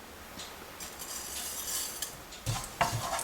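Cumin and sesame seeds roast in oil in a pan. A light crackle and sizzle comes with spoon scrapes and a few metallic clinks against the pan near the end. Close and moderately quiet, with no voices.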